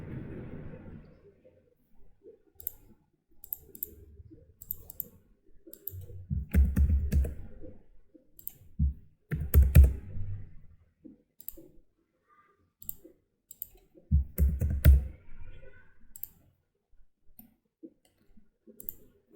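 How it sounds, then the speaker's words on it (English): Mouse clicks in a computer engineering simulation program, several sharp isolated clicks spread across a quiet stretch with low thumps and faint background handling noise, close and fairly faint, no one speaking. "I'll double click on model now."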